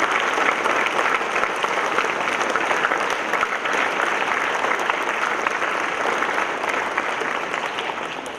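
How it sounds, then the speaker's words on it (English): A school audience claps steadily throughout, a dense, sustained round of applause at an inspection event that eases slightly toward the end. "May I request all of you to give a round"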